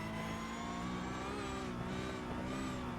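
Porsche Cup race car engine in the sim racing game iRacing, a loud continuous high-revving drone with layered harmonics and slight pitch wavering as the car powers out of a corner.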